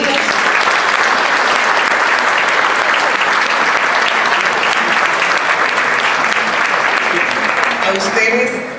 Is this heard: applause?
yes